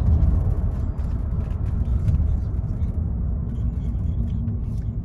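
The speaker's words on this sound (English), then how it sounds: "Go ahead and apply the brakes." A 2010 Mercedes-Benz E350 slowing under braking, a steady low road rumble and tire noise filling the cabin throughout with no distinct squeal.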